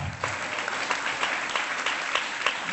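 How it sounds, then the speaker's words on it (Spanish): Church congregation clapping during a sermon, a dense, even roar of many hands applauding together, loud and steady for the whole stretch. "Puede darle un aplauso fuerte al Señor"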